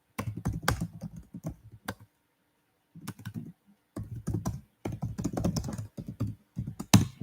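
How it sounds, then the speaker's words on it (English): Typing on a computer keyboard, rapid clusters of close, crisp key clicks separated by brief silent pauses, with no talking. "let me just type that there"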